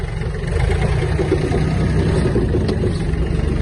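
Yanmar AF-24 Japanese mini tractor engine running steadily as it turns in a small yard, a continuous loud mid-pitched engine drone with no talk.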